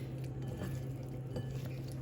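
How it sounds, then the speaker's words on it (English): Marinated shrimp tossed and mixed in a bowl, producing soft, wet squishing and light clicking against the bowl, faint and close over a steady low hum. "Mix it up well, make sure it's nicely incorporated."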